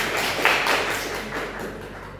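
A brief burst of classroom applause, a quick patter of hands that fades within a couple of seconds.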